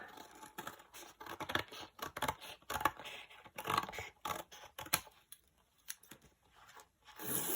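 Scissors chop through denim for a junk journal cover in a run of close, crisp snips and crunchy rasping cuts, quiet and irregular, with short pauses between strokes.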